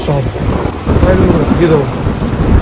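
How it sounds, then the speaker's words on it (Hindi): Thunder rumbles through a heavy rainstorm, a loud low roll over steady pouring rain, with a brief voice in the foreground. "खतरनाक तूफान आ रखा भाई,"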